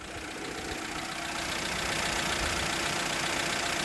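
Rattly engine treated with Lucas oil stabilizer running steadily at idle, a constant mid-low mechanical drone with faint knocking texture, close and continuous with no talk.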